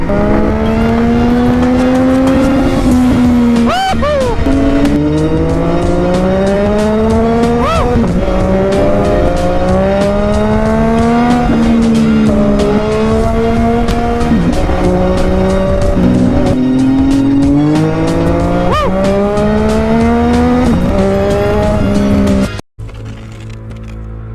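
A Yamaha XSR900 motorcycle with a drift exhaust pulls hard through first gear, its loud engine note climbing in repeated rising sweeps between quick shifts or throttle lifts, close and continuous, cutting off abruptly at the end.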